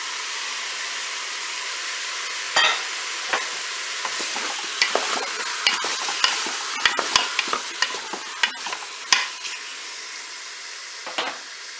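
Onions sizzling in the pot of a Cookeo multicooker for a rabbit and potato dish, a steady loud hiss broken by a run of quick spoon scrapes and clicks that grow busier toward the middle.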